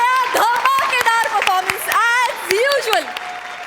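An audience at a Marathi comedy show applauds while a voice carries on over the clapping, short and lively, heard close in a studio setting.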